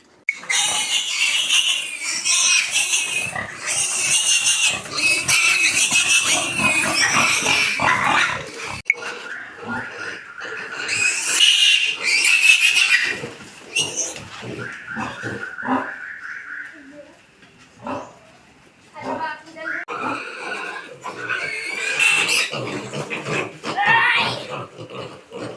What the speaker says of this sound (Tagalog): Ayan, ang ating mga bagong biik.